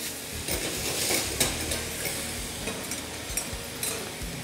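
Pineapple sautéed in a pan ahead of flambéing, a steady close sizzle with light scraping and tossing clatters scattered throughout, no voices.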